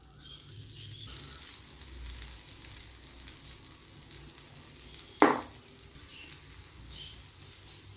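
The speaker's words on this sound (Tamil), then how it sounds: "இப்போ நம்ம உருட்டி வச்சுருந்த உருண்டைகளை அப்படியே இந்த மாவில் முக்கி எடுத்து இல்லை ஒன்று ஒன்றா போட்டு ஃப்ரை பண்ணிக்கலாம்" Balls of idli batter dipped in batter fry in hot oil with a steady, fairly quiet sizzle, broken once near the middle by a single sharp click.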